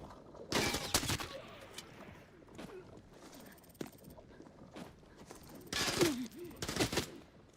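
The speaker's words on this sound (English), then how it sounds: "They're still shooting me." Gunfire aimed at the player in a shooter game comes as sharp, loud bursts, one cluster early and another near the end, with scattered quieter shots, shuffling and a faint voice in between.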